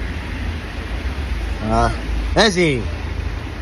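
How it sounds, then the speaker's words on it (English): Steady rain hisses as a constant wash of noise, with a person briefly speaking over it midway. "So hintayin lang namin muna yung ulan."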